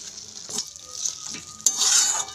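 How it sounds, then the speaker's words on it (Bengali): Potatoes and eggplant sizzle in a frying pan, with a steady close hiss broken by a few stirring scrapes, and the sizzle swells louder toward the end. "আলু বেগুন তো ভাজতে ভাজতে অর্ধেক সেদ্ধ হয়ে গেছে।"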